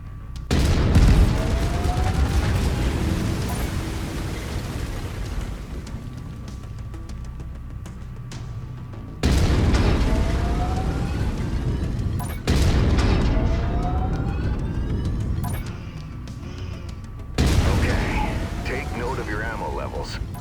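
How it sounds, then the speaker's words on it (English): Autocannon fire from a battle mech in the MechWarrior 5 video game, heavy booming shots in several bursts with loud rolling blasts and sweeping tones, the last one at the end, no talk. "I've mapped the autocannon to Weapon Group 1. You're free to fire whenever you're ready."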